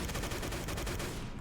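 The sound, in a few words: gunfire in video game Day of Defeat: Source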